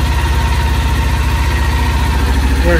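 A 2020 Kawasaki Ninja 400 ABS motorcycle engine idling while cold, a loud, close and steady throbbing rumble that holds an even pulse throughout.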